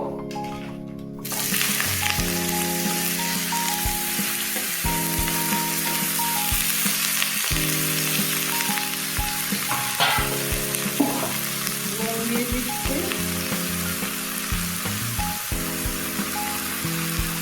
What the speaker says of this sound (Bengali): তেল গরম হয়ে গেছে এবার আলু বেগুনটা ছেড়ে দেবো